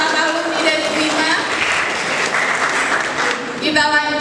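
An audience at a school alumni gathering in Jakarta claps in a dense, steady round of applause that fills the room and holds for several seconds, with a voice cutting in near the end.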